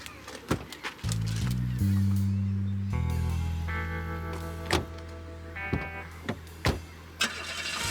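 A car engine cranks and catches, then settles into a low idle with a few sharp clicks and thumps, like doors or controls, heard up close in a drama scene without speech.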